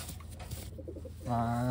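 A pigeon coos softly a few times, followed by a louder, steady cooing close by.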